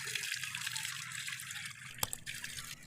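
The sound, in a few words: running water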